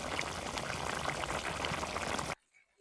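Liquid bubbling and boiling in a pan while snakehead fish curry with barbati beans cooks, a steady close bubbling hiss that cuts off abruptly near the end, leaving near silence.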